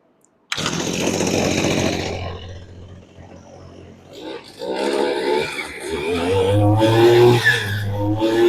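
A rebuilt Echo string trimmer's small two-stroke engine starts abruptly and runs loud and close, its revs rising and dipping unevenly before climbing to a steady high whine.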